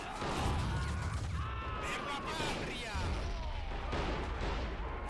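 Machine gun fire rattles in a WW1 video game, with dense crackling bursts and explosions throughout as players talk over the battle.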